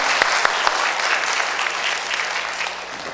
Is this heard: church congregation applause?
yes